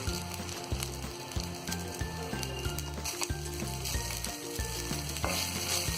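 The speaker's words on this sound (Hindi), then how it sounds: "तो मिर्च में हमने नमक डाल के अच्छी तरह फ्राई कर लिया है" Green chillies fry with salt in a pan over a low gas flame, a steady close sizzle and crackle running throughout with low rumbling underneath and no talking.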